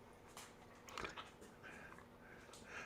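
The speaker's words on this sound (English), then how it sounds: "we've got two puppies here chewing on my thumb" Two puppies chew on a thumb, making soft close snuffling, mouthing and faint whimpering noises with small scattered yelps, quiet overall.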